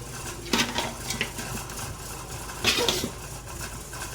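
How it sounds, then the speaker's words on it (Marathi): A metal spoon scraping and clinking in a pot as mutton is stirred into masala, a few soft scrapes and knocks over a steady low background hum. "हे मटण आपण आपल्या मसाल्यात छान एकजीव करून घेणार आहोत"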